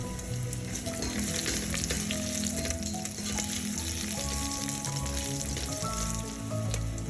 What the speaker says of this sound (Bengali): রসুনটা কিছুক্ষণ ভালো করে ভাজতে হবে যাতে রসুনের গন্ধটা পুরো তেলের মধ্যে ছড়িয়ে যায়